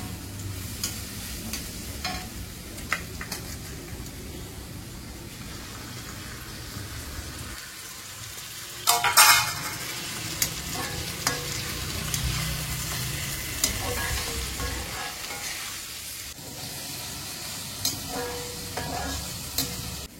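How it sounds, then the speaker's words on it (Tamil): Onions and tomatoes sauté in oil with mustard seeds in a pan, giving a continuous sizzle broken by irregular scraping and stirring clatter and one louder clang, close, with no talking. "வெங்காயத்தை வதக்கலாம்."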